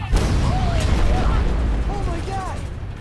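A massive, sustained explosion roars with heavy low rumble throughout, debris-like crackle and a few faint whistling tones riding over it.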